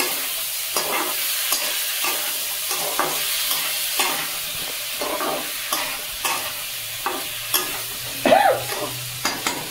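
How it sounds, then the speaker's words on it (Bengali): Chicken pieces are stirred and fried in a pan, giving a steady sizzle under repeated scraping and clinking strokes from the stirring utensil at a regular pace. No voice is heard. "এবার মাংসটা আমি দিয়ে দিলাম, ভালো করে আমি নেড়ে চেড়ে নেব।"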